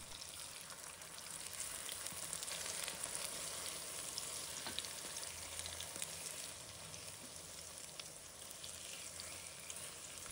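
Tofu turned to fry on its second side sizzles steadily in a hot pan, a dense close crackle with occasional spatter and light stirring sounds, continuous throughout with no talking.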